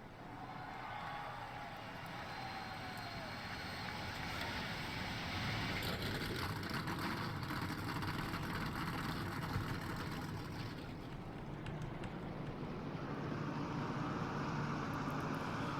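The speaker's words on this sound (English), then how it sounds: "Drivers, start your engines." Race truck engines at Talladega Superspeedway in an NRSL Pro Truck Series sim race start up and idle as a dense, steady rumble of many motors, moderately loud and continuous throughout, with no talk.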